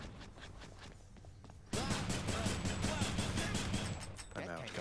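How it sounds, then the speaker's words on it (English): Cannon fire in the video game Hades: a sudden loud burst of battle noise cuts in mid-clip, with dense crackling impacts and rapid sound effects continuing over background game music. "Oh, the cannon again."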